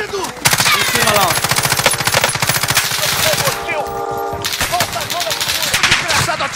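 Rapid automatic gunfire in the video game Call of Duty: Warzone, loud, dense bursts that continue almost without a break, with faint game sounds underneath.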